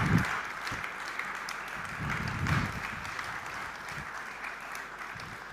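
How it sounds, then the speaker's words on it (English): A festival main-stage audience gives fairly quiet, sustained applause after a talk on resource efficiency, the clapping rolling steadily with slight swells and no speech on top. "That was your big applause."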